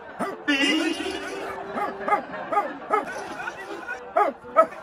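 A person imitates a dog with a series of short barks and yips, mixed with laughter and chatter from others nearby.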